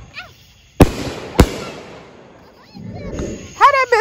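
Fourth of July fireworks go off outdoors with two sharp, loud bangs close together, followed by a crackling hiss as they fizz and smoke, and people talk briefly near the end.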